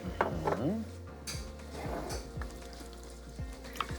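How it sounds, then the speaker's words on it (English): Corn flour paste is stirred into mushrooms in a pan, with a soft sizzle under scraping and clinking of a utensil against the pan and a brief voice early on. "So we're going to add the corn flour paste to the mushrooms. And we stir."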